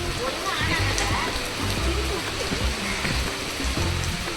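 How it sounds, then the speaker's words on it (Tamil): Rain pours down in a steady rushing hiss with some low thumps and rumbles underneath, loud and continuous throughout. "மழையில் நனைஞ்சிட்டேன்"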